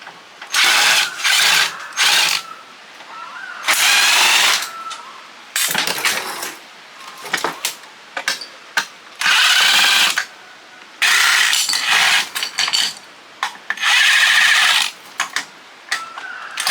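Power drill backing screws out of the side of a stereo receiver being scrapped, heard as several loud whirring bursts of a few seconds each, separated by short pauses and faint clicks.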